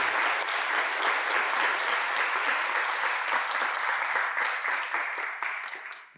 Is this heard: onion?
no